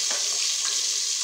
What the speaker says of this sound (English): Let the momoni fry.